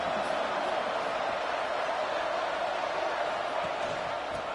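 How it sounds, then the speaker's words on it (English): A football stadium crowd roars in a continuous, dense wash of cheering during the early going of a game, loud and unbroken throughout. "Listen to the crowd energy here in the early going."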